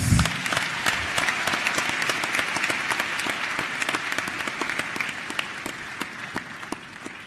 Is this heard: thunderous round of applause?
yes